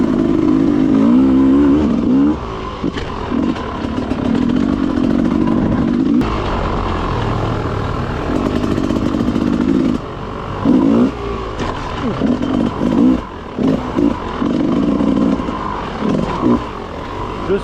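A motorcycle rides a technical track lined with walls, its engine revving in irregular bursts that rise, cut and surge again, loud and close, with a voice heard at moments.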